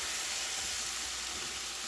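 Vegetable broth is added to mushroom risotto in a hot pan, giving a steady, even sizzling hiss that holds at the same level throughout.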